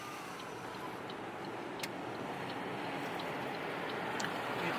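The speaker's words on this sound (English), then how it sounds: "Driving out of town." A car drives out of town in Samoa, heard from inside as a soft, steady road rumble with faint ticking and small knocks. No one speaks over it.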